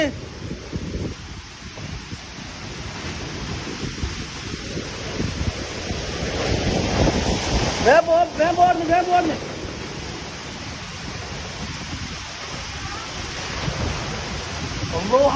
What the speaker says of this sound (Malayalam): എന്ത് കാറ്റ് എന്ന് വെച്ചാലും പോരായിട്ട് എന്തോ ഒരു കാറ്റാണ്